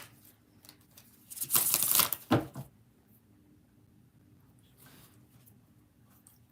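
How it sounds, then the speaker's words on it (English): A deck of tarot cards is shuffled during a card-reading session, giving a brief, loud riffling burst of about a second amid otherwise quiet surroundings with no talk. "6 shuffles for Liz."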